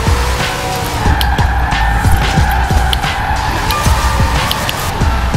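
Car tires skid and squeal steadily through a drift entry on a winter road in Forza Horizon 4, loud and close over a constant engine roar, with repeated thumps and tire chirps as the car slides.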